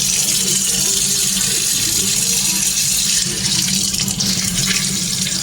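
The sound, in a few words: water running and leaking from a flexible kitchen faucet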